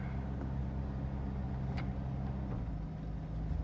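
A 1952 Buick with Dynaflow transmission runs after 26 years unstarted, its engine a low steady rumble with a faint irregular idle and a few small clicks, no voices over it.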